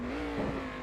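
A race car in a racing simulation laps Phillip Island, its steady engine drone mixed with a brief rush of tyre noise, close and continuous for under a second.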